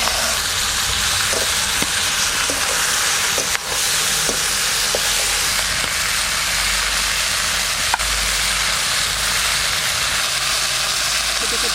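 A head from a large 1.6 kg local hilsa fries in hot oil as further pieces are added, a loud, continuous broadband sizzle with a few faint knocks of utensils underneath.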